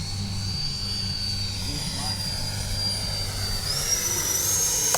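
A Freewing A-4 Skyhawk 80mm RC jet hums past on a landing pass with a continuous high ducted-fan whine that rises in pitch near the end, over steady outdoor rumble; a person talks during it.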